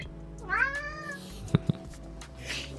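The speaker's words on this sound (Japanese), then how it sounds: "猫さん" A cat gives one clear, drawn-out meow close by in a quiet room, followed by two soft low thumps.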